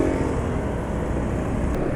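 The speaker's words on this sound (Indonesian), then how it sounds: "Ini suara mesin juga ya nggak halus lah." A motorcycle engine running on Revol oil idles roughly, a continuous low mechanical drone with uneven, rattly pulsing, close and steady throughout.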